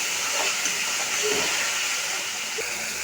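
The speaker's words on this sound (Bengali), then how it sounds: "টক দইটা দিয়ে ভালো করে মশলাটা কষিয়ে নেব" Spice paste cooked down with sour yogurt sizzles in hot oil for a stuffed pointed gourd dish, a steady close hiss running throughout with faint scraping clatter now and then.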